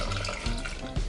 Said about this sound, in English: I'm just going to take my cup of vegetable stock and just pour it